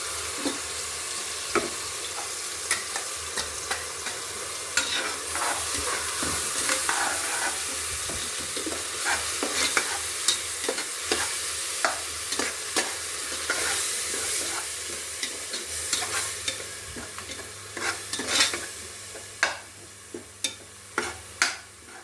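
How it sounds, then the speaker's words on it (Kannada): Ground masala frying in a pan for tomato bath, a constant oily sizzle broken by repeated scraping and clinking stirs of a spoon against the pan, close and fairly loud, with no talking. "ರುಬ್ಬಿರೋಂಥ ಮಸಾಲೆ ಇದು ಹಸಿ ವಾಸನೆ ಹೋಗೋವರೆಗೂ ಸ್ವಲ್ಪ ಫ್ರೈ ಮಾಡ್ಕೋಬೇಕು."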